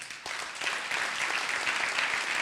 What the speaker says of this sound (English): So if I could ask one big round of applause for